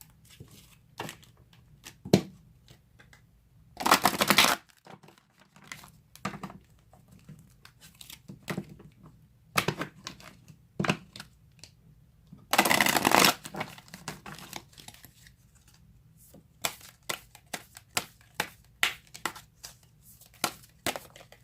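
Cards are shuffled for a card reading, with two long riffling bursts and many short crisp flicks and snaps in between, close by, with no one talking.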